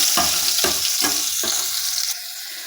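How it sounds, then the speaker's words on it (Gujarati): Soaked, drained chana dal sizzles in a hot pan while a spoon stirs it in four rhythmic scraping strokes. The frying continues briefly before the sizzle drops away, and no one speaks. "હલાવી લઈએ"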